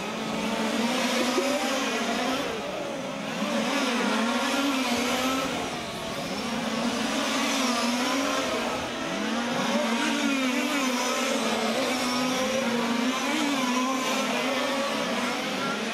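Large-scale RC touring cars race around a track, a continuous high-pitched buzzing whine of several small engines rising and falling together at a moderate distance, with no voices heard.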